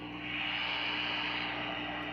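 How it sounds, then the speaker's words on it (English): Mesa Boogie Mk IV guitar amp sitting idle, its cabinet miked with an SM57, giving off a faint, steady hiss with a low hum underneath, unbroken throughout. "You can probably hear the amp idling, some noise coming from the cabinet."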